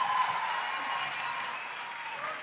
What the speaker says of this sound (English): Let's keep clapping for him until he comes up.